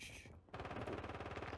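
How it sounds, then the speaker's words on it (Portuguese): Automatic gunfire in Call of Duty: rapid machine-gun bursts, loud and steady after a brief pause, with no talking. "Ó, tá tendo tiro ali."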